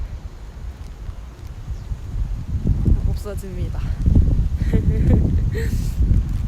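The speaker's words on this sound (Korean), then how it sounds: "바람이 엄청 불어요, 진짜." Strong wind blowing outdoors on an overcast day, a rough, gusting rumble buffeting the microphone that swells louder partway through, under someone talking and laughing.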